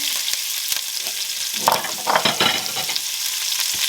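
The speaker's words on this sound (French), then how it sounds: "je vais profiter que l'huile est bien chaude. On va faire revenir les oignons." Onions frying in very hot oil in a cooking pot for a pork roast with cream and lardons, a steady close, loud sizzle with crackling pops and a brief stirring scrape.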